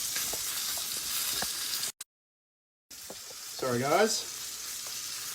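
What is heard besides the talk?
duck breasts sizzling in a pan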